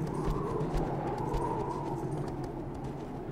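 A horse gallops in Shadow of the Colossus, its hooves pounding in a quick, steady rhythm under a continuous low rumble, loud and close throughout.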